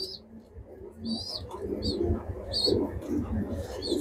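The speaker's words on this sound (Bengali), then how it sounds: "কিন্তু আমারই বন্ধুর কবুতর এটা, এই যে আনোয়ার ভাইয়ের।" Racing pigeons coo in soft repeated bursts amid a busy background of rustling and low murmur, with some higher chirps mixed in.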